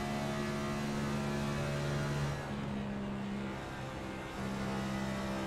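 Race car engine on track, holding a steady loud drone before the pitch dips as the driver lifts off the throttle, then picks back up.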